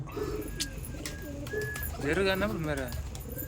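A pigeon coos in a short rolling phrase near the middle of the clip, close and moderately loud, over a background of other faint bird sounds and noise.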